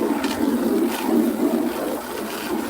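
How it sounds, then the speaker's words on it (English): Water runs steadily from a garden hose, a continuous close rushing hiss with slight fluctuations and no talk over it. "So then you gotta let the water run a little bit."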